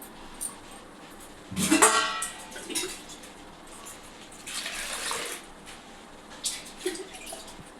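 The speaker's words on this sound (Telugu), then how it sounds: "దీంట్లో వాటర్ పోసుకోవాలి" Water splashes and pours into a container in a few short bursts, close by, with quiet pauses between, while making Telangana-style bakshalu sweet flatbread dough.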